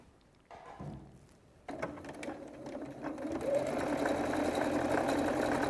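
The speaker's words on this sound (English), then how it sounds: "I'm going to start building this up now and just stitching it all together." Sewing machine stitching fabric pieces together with a 1/4 inch seam allowance, a steady close mechanical whir that starts quietly and grows louder and denser partway through, with no talk over it.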